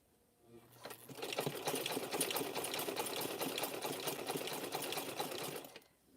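A sewing machine stitching rope to form a chain, a fast steady mechanical whirr with rapid needle clatter that starts after a second, runs evenly for several seconds, then stops.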